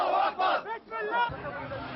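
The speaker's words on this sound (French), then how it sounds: "Pour l'applaudir, quelques supporters rassemblés pour l'occasion" A small group of about thirty supporters cheers at the Sharm el-Sheikh summit in October 2000, with loud, close voices shouting and calling together in bursts rather than steady clapping.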